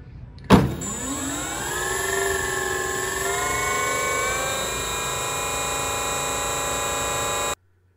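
An electric motor on a 33 percent scale foam board Fokker Dr-1 triplane runs a 44-volt spin test, starting with a sharp click then whining up in pitch to a steady, loud high hum before stopping abruptly.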